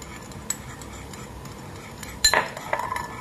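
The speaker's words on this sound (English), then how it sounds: "and 1 teaspoon of sesame oil. Mix it well" A spoon clinks against a bowl while mixing a Chinese-style bamboo shoot salad dressing with sugar and sesame oil, with a sharp tap midway, then a few quick stirring clatters close by.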